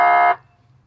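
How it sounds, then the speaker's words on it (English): A fire rescue vehicle's air horn gives a loud, steady blaring tone for about a third of a second, then cuts off abruptly, leaving only a low hum. "and your air horn."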